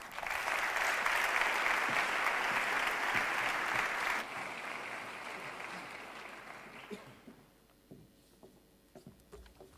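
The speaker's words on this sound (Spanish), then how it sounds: "Aplaudimos." Audience applause at the institutional opening of a CEOE commerce sector meeting in Valladolid, a dense, sustained wash of clapping that drops in strength partway through and fades into scattered claps and a quiet room.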